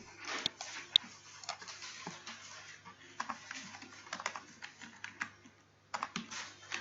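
Computer keyboard being typed on while writing C code, with irregular clacking keystrokes in quick clusters and short pauses, close and fairly quiet with no speech.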